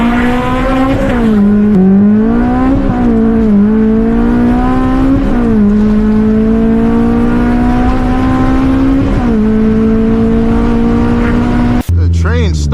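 A straight-piped Honda S2000 screams through city streets, its loud, raw exhaust climbing and falling through revs in a steady high-pitched wail from the driver's seat, ending with a sharp cutoff.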